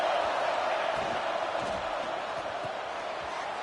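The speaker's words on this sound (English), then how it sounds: "Listen to this crowd just shaking the girders of this place" A large stadium crowd roaring at a college football game between South Alabama and Texas A&M, a dense, sustained wash of cheering heard from a distance, holding steady and loud throughout with no clear voice on top.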